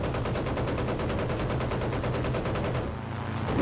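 Rapid machine-gun fire in Battlefield 1943 rattles in a dense, evenly spaced burst for about three seconds before cutting off, loud and close with no talking.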